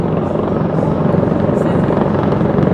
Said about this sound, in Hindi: वैसे काफ़ी बड़ा हेलीकॉप्टर है, अपनी ज़िंदगी में मैंने इससे बड़ा हेलीकॉप्टर कभी देखा नहीं है।